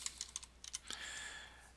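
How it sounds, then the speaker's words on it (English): Typing on a computer keyboard, a quick run of separate clicking keystrokes close by, then a brief pause and a softer, steadier stretch of key noise. "it's just a matter of typing some text"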